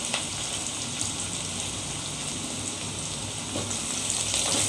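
Onion, garlic and green chili fry in a pan with a constant, even, rain-like sizzle that holds steady throughout, close and moderately loud with no voices.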